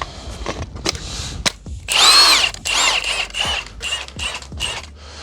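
An impact wrench spins lug nuts off the wheels of a 1985 Merkur XR4Ti with a 21 mm socket: several short, loud rattling bursts, then a longer whirring run followed by more hammering bursts close by.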